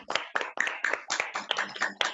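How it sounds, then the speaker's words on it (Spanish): Roughly nine distinct, rhythmic hand claps ring out after a seminar lecture on James Joyce. They are fairly close and evenly spaced, with no talking over them. "quitar activar el sonido, que se oiga el aplauso"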